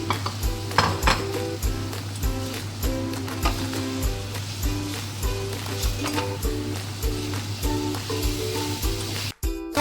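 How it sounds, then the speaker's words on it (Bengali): Fried soybeans go into cooked spice masala in a pan for soybean curry, giving a loud steady sizzle with rhythmic scraping stirs and occasional clinks of a utensil against metal, close up. "এই মশলাটা কষা হয়ে গেছে এইবারে এই ভাজা সোয়াবিনটা দিয়ে দিলাম"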